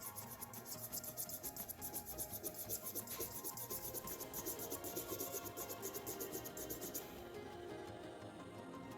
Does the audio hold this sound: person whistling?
no